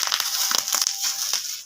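Bubbles in laptop packing wrap get squeezed and popped, giving a quick series of sharp, close crackling pops over a crinkly plastic rustle.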